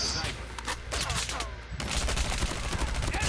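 Game gunfire in Call of Duty Mobile: rapid bursts of shots crackle one after another through the whole stretch, loud and dense, with a brief lull near the middle before the firing picks up again.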